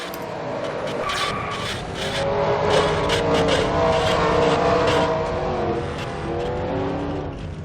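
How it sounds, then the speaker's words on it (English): At the start of a Pokemon Cup Series race at Kyalami in a racing video game, a pack of cars crashes. Dense revving engines blend with scraping contact noise in a sustained, loud mix that swells in the middle. "Big crash to start the race."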